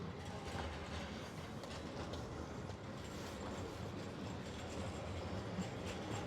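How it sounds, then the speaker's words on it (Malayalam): A tram passing on an Istanbul street, a faint, steady rumble of wheels on rail with soft clatter, heard from a distance amid street ambience. "ഇതാണ് ഇവിടുത്തെ ട്രാം."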